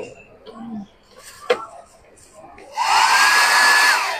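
An electric hair dryer switches on after a few seconds of quiet handling noises and runs loudly and steadily with a broad, even whoosh until the end.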